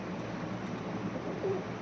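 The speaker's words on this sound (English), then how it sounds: "What's up, bird?" Soft cooing of a pigeon-like bird in The Legend of Heroes: Trails into Reverie, a low mellow coo over quiet game ambience, faint and close.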